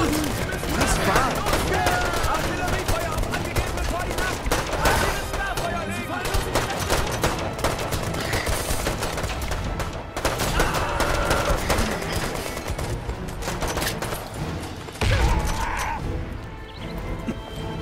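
Dense gunfire and crashing impacts in the war video game Brothers in Arms 3, loud and continuous bursts of rifle and machine-gun shots with explosions, mixed with shouted voices throughout.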